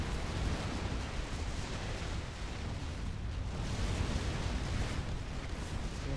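Artillery fire and explosions in a Supreme Commander 2 battle form a steady, faint wash of dense rumbling blasts that continues without pause, distant rather than close.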